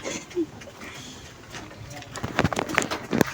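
Breeder pigeons coo softly in a loft, a low throaty call near the start followed by rustling, wing flutters and scattered clatter, with faint background voices.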